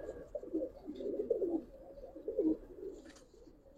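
A female Giribaz pigeon coos in a low, throaty rolling burble, repeating in several soft pulses close by, with faint background noise and no speech.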